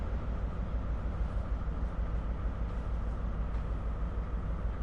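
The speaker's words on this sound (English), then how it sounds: "Fast moving train." A fast-moving train rumbles past in a train simulator game, a steady loud low-pitched roar and rattle holding even throughout without a break.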